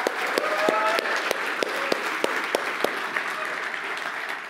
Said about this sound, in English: give a quick round of applause for Joe, Aaron, and Sonny's team